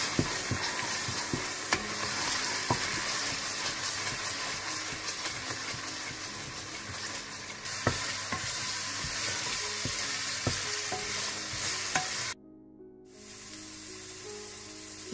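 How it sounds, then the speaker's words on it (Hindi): Turmeric, coriander powder, cumin powder and salt stirred and fried in a pan, with steady sizzling and repeated sharp scrapes of a spoon against the pan, then a sudden cut to a quieter, softer sizzle near the end. "हल्दी पाउडर, धनिया पाउडर, जीरा पाउडर और नमक भी डाल दें और इसे अच्छी तरह से आप मिक्स कर लें और भून लें"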